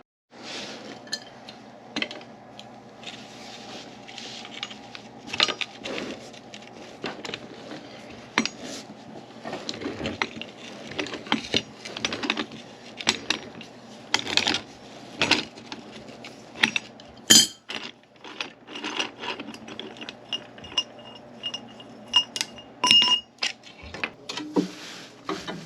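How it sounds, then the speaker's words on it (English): A pipe wrench tightens a pipe fitting into a water heater tank, making irregular metallic clinks, taps and scraping clanks close by, bursts repeating unevenly over about 25 seconds. "we can just use a pipe wrench to tighten that in"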